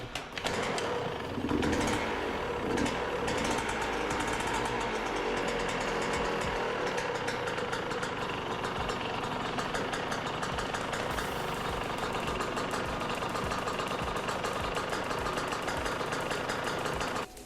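A 2023 Yamaha YZ125X two-stroke dirt bike engine runs after a fresh piston and top-end replacement, producing a continuous, loud, buzzy idle with slight revs near the start, steady to the end.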